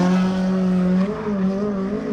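K20-swapped Ford Fusion time attack car driven hard on a warm-up run, a loud sustained engine drone with steady harmonic tones that dip briefly and then carry on, close and dominant with no voices.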